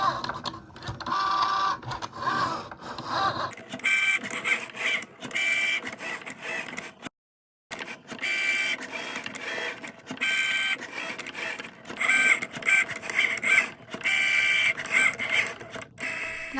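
A Cricut Joy cutting machine drawing with a marker gives off a busy, clicking whir of small motor moves, repeated in short bursts with a brief silent pause midway.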